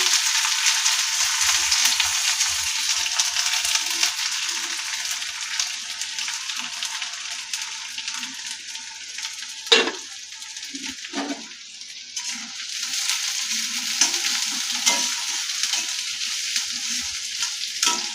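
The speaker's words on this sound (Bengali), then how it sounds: "ভালো করে ভাজা ভাজা করে নেবো পেঁয়াজটাকে" A chopped whole onion fries with cumin in a pan for gourd kopta curry, a close, continuous crackling sizzle broken by spoon-stirring clatters and scrapes, with no talk.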